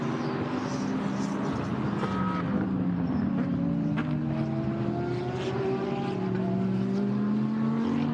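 Endurance race cars, BMW and Audi among them, scream down the back straight at the Sepang 12 Hours, several engines overlapping in a steady, loud roar with rising and falling pitches as they pass.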